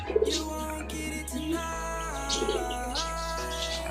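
Pigeons coo softly in a breeding loft over a low steady hum, with a few light chirps and rustles, close and fairly quiet.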